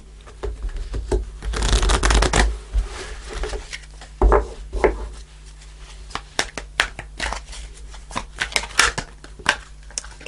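Tarot cards shuffled and flipped over on a table, a loud burst of riffling followed by a run of sharp, distinct snaps and slaps as single cards are laid down one after another, close and without talk.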